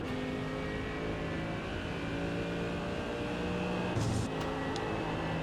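A Mercedes GT3 race car in iRacing at Daytona holds a steady engine drone, then gives a brief blip and downshift burst near the end before settling back to a continuous hum.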